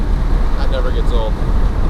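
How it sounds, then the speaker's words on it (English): Wind roars in through open car windows while driving, a constant low buffeting rumble with road noise underneath and a faint voice briefly audible over it. "That wind noise is pretty loud."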